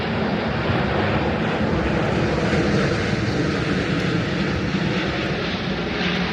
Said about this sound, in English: it is loud because there is a plane above us